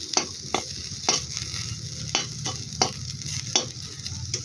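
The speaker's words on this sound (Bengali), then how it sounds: "নিম পাতা ভাজছি।" Neem leaves frying in oil in a pan, a steady close sizzle broken by about eight quick scraping strokes of a spoon stirring them at an uneven pace.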